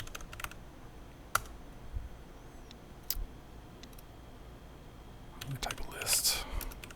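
Quiet typing of commands on a computer keyboard, scattered soft key clicks with a few sharper taps and a brief flurry of keystrokes near the end, close and faint with low background noise.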